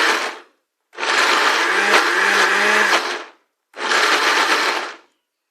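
An electric blender grinding a Lao herbal jaew chili dip runs in loud, close bursts: a brief end of one run, a long whirring run of about two seconds, then a pause and another shorter burst, with no talking.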